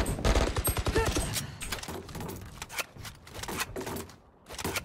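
Spectre submachine gun firing in the Valorant video game, rapid full-auto bursts of close, sharp shots that come in quick strings, then thin out into scattered pops.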